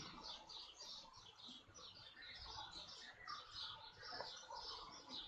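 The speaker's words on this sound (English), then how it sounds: "I know y'all probably hearing the birds" Birds chirp faintly in the background in repeated short high bursts, distant and soft behind a quiet room.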